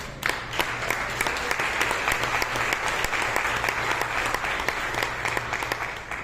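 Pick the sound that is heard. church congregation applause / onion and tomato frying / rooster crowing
church congregation applause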